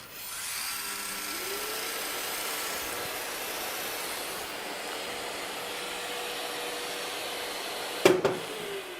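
A Festool Planex Easy drywall sander head spins in rotary action with a steady, loud whirring hum and no pause, then gives a brief knock near the end.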